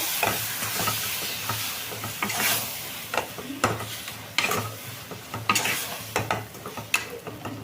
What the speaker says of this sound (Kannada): ಇದನ್ನು ಚೆಂದ ಸ್ವಲ್ಪ ಬಿಸಿ ಮಾಡ್ಕೊಳ್ಳೋಣ ತಿರುಗಿಸ್ಕೊಂಡು